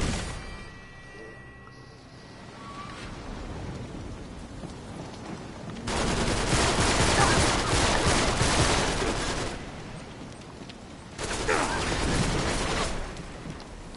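Gunfire in the video game Uncharted 3, dense bursts of rapid shots rolling like a fusillade, loud and close, surging in two long stretches with quieter gaps between.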